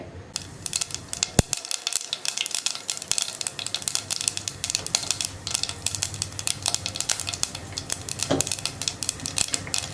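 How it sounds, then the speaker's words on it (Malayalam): Mustard seeds crackling and popping in hot coconut oil in a pan, a dense stream of rapid small pops and sizzle, close and steady throughout. "ഇനി ഈ കടുകൊന്ന് പൊട്ടി വരട്ടെ."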